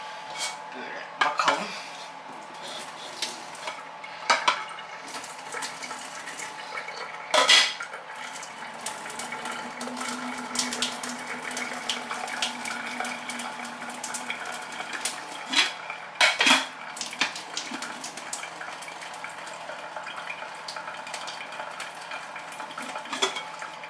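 Dishes and cutlery clatter in a kitchen while a pot of water comes to a boil, with sharp clinks of plates and utensils at irregular intervals over a steady low background hum; a voice speaks at times.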